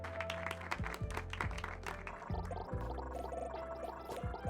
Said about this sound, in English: The person gets off the mic to some paltry claps